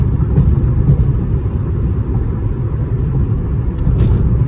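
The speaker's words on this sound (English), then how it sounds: "Driving on the reflectors." A car's tires roll over raised road reflectors at speed, giving a loud, continuous low rumble and drone inside the cabin that stays steady throughout.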